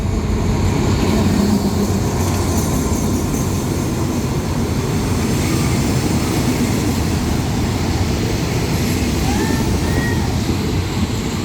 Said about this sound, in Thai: เข้าหยุดรับส่งสินค้าที่สถานีนครปฐมนะสำหรับขบวนสินค้า 986